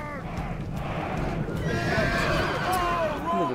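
Horses in the Rome: Total War battle game whinny and neigh repeatedly over galloping hooves and a noisy battlefield din, with shouting voices mixed in throughout.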